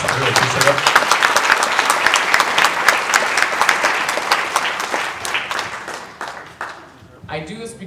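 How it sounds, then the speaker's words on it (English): An audience gives a round of applause at a Pecha Kucha presentation in St. Louis, loud dense clapping that runs several seconds before thinning out, with voices underneath and a brief spoken bit at the close. "We give them a round of applause."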